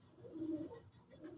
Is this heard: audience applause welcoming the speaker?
no